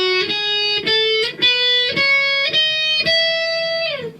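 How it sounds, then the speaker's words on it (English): Electric guitar plays a major scale on a single string, with eight clear picked notes stepping upward one after another at a steady pace, the last note ringing out and fading. "What I'm going to do for you now is just play the scale for you so you can just see how it sounds"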